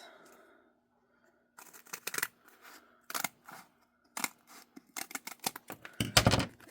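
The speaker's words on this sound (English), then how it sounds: "Because I want this the entire length, I'm going to trim this." A foam sheet is trimmed for a scrapbook layout: crisp, irregular snips and cutting crunches, close and moderately loud, in bursts after a quiet start.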